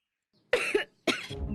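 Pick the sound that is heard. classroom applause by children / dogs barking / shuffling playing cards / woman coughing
woman coughing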